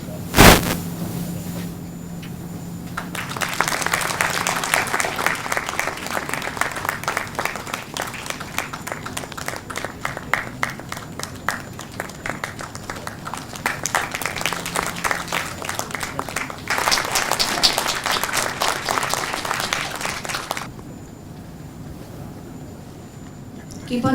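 Sustained audience applause rolls through a hall during an address, a dense wash of many hands clapping that swells and eases, with a short voice at the start and a quieter tail near the end.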